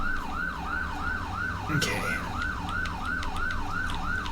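A fire truck siren in GTA V wails in a steady, repeating rise-and-fall cycle at night, loud and continuous throughout, with a brief burst of other noise partway and a single short spoken word.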